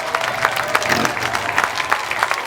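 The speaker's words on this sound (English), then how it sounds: "Y'all clap it up." A crowd at an anti-bullying rally for Kendrick Johnson claps steadily and fairly close, a dense patter of applause with scattered cheers running through the whole stretch.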